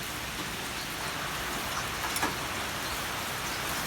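Steady rain falling in a continuous hiss, fairly soft and even throughout, with no voices.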